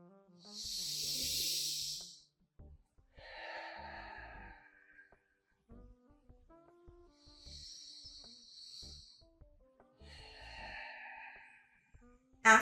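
Diaphragmatic breathing exercise for lymphedema fluid clearing: a few slow, drawn-out breaths, with strong hissing exhales and softer airy inhales separated by pauses, close and faint over gentle background music.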